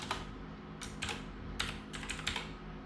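Python code being typed on a computer keyboard, with quick clusters of crisp key clicks separated by short pauses, close and soft over a low steady background hum, with no voices.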